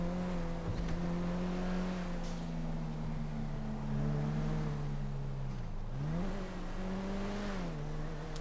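Car racing at full speed in GTA 5, a steady loud engine drone holding high revs with a brief dip and pitch swing as it shifts, continuous throughout.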